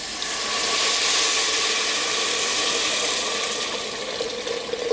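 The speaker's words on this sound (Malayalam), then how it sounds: "ഞാൻ അതിലേക്ക് 3 കപ്പ് വെള്ളമാണ് ചേർക്കുന്നത്" Water poured into a pressure cooker for rice, a steady close rushing splash that swells and then tapers off, with no talk.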